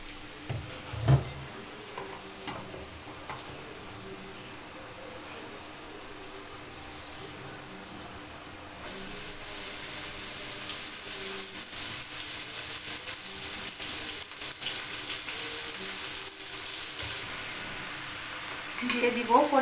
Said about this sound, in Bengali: লবণ আর হলুদ দিয়ে আলুটা আমি লাল লাল করে ভেজে নিব